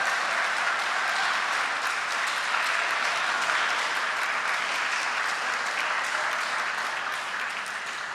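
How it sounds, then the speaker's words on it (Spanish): Congregation applauding the Lord during a Mother's Day church service: a steady, dense wash of many hands clapping that holds for about eight seconds, easing slightly near the end. "Un aplauso al Señor"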